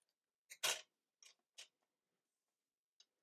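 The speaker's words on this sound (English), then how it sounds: "So I'm going to cut it into 2 pieces." Scissors cutting an affirmation card into two pieces, a few short crisp snips at an uneven pace with one louder cut, close and quiet in a silent room.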